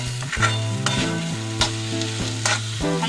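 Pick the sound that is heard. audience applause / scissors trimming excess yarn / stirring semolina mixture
stirring semolina mixture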